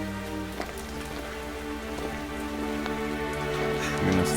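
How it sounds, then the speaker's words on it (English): Heavy, steady rain pours down as a dramatic movie-style effect, a dense continuous hiss with droplets spattering on surfaces under a low sustained musical drone. "They really nailed the movie rain here. Holy, look at that rain."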